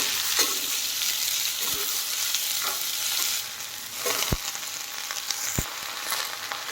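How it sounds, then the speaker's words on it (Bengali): Chopped snake gourd fries in hot oil with dried red chillies and nigella seeds, a loud steady sizzle close by with a few sharp thumps and clatters of stirring against the pan. "এখন আমি এর মধ্যে কেটে রাখা চিচিঙ্গাগুলো দিয়ে দিলাম"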